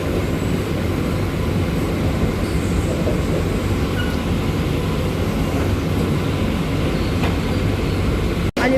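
A Mumbai CSMT–Vashi AC local train on the Harbour Line rolls along inside a coach, with a steady loud rumble and hum that barely shifts throughout, cut off briefly near the very end.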